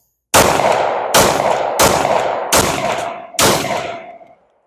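Five loud pistol shots from a 1911 fitted with a budget compensator, fired alone at a steady pace roughly a second apart, each a sharp crack with a ringing tail.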